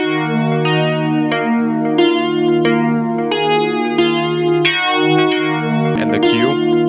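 A Karanyi Sounds Midnite synthesizer holds rich sustained chords with steady layered harmonics while its filter is adjusted, and a brief bright glitchy burst sounds near the end.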